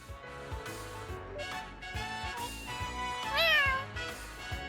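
A cat meows in the video game Trails to Azure, one rising, wavering mew standing out near the end over continuous game music with a steady rhythmic beat.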